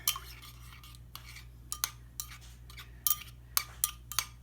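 A spoon clinks and scrapes against a container while stirring salsa ingredients into about a quarter cup of tomato juice, giving close, irregular metallic taps over a low steady hum, with no talking.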